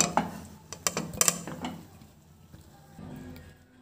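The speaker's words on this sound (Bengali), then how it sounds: "এবারে মুইঠাগুলো এই জল ছেঁকে তুলে নেব।" Chicken muitha dumplings are lifted out of their cooking water, with a burst of sharp metal and utensil clinks and scrapes early on that fade to quiet kitchen rustling.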